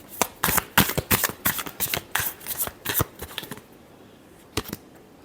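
A deck of tarot cards is shuffled in quick, crisp riffling bursts, close and clear, then a pause and one last short flick.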